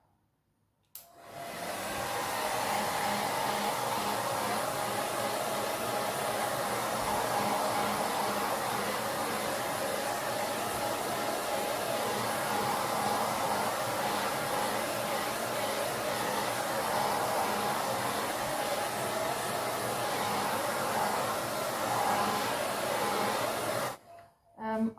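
Hot-air tool blows continuously to dry a Christmas table centrepiece, a steady loud whooshing whir starting abruptly and cutting off near the end after about 23 seconds.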